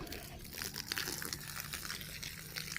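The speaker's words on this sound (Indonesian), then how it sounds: "Ya, saya siram." Water from a hose splashes and pours onto a mango plant outdoors, a steady crackling, spattering wash with no talk over it.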